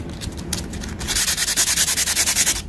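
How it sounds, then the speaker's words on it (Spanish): Fine sandpaper rubbed over the wood of a baroque altarpiece being restored, a rapid, even back-and-forth rasping of about a dozen strokes that grows louder and steadier after the first second, close by with no talk. "vamos a ir con la lija más finita"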